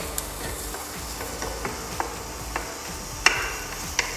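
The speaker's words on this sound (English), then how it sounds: "And we'll let those guys, the onion and the chili and the garlic cook up." Onion, chili flakes and garlic cook in oil with a soft continuous sizzle, joined by occasional sharp taps and clicks from a utensil, one louder knock near the end, no voices.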